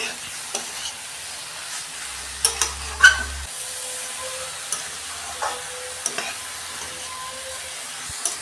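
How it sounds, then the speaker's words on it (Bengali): Spice masala and cabbage are sautéed in a pan, with a quiet sizzle and intermittent scraping taps of a spatula stirring, close and fairly soft. "এটা ভালো করে মশলাটা কপির সঙ্গে ভালো করে কষাবো"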